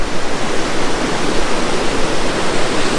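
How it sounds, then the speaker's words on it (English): A river of fresh mountain snowmelt rushes through Nanaimo with a steady, loud broadband roar of flowing water, continuous and close, with no voices. "you get rivers like this one over here coming even through Nanaimo. This is all fresh mountain water"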